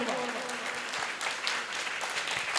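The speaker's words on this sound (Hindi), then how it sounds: "तालियां बजा दे" An audience at a mastakabhishek ceremony at the Shri Chandraprabhu Digambar Jain Atishay Kshetra temple claps steadily in a dense, continuous wash of applause, with a faint voice underneath.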